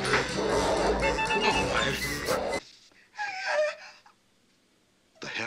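Dogs bark in the 1983 film A Christmas Story, dense and loud at first amid voices and laughter, then broken into shorter, quieter bursts with near-silent gaps.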